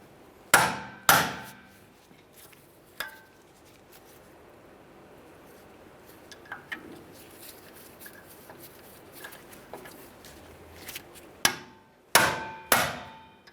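A hammer taps the wheel hub mounting screws on a 2007-2013 Acura MDX rear wheel bearing and hub assembly, sharp metallic strikes in clusters at the start and end, with quieter clinks and handling noises in between.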